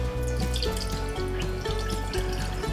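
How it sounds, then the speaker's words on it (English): Vinegar draining out of a batch of pickled eggplant, a steady close trickle and splash of liquid like a running tap, continuous for a few seconds with no talk. "We're gonna go ahead and drain out the vinegar."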